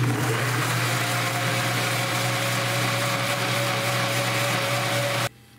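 A kitchen blender whirs steadily at high speed, puréeing boiled tomato with onion, garlic and a little water for a chipotle spaghetti sauce, a loud continuous motor drone that cuts off abruptly at the end.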